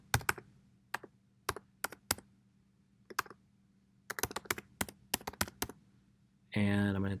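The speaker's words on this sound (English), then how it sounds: "I'm going to type in my email." An email address is typed on a computer keyboard in short, irregular bursts of crisp close keystrokes with quiet pauses, ending in a brief louder buzzing tone.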